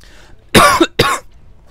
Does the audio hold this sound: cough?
yes